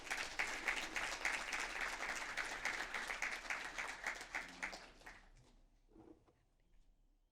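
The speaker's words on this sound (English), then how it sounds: "Let's give them another round of applause." An audience at a city council meeting gives a round of applause, steady and moderately distant, fading out after about five seconds into near silence with a few faint sounds.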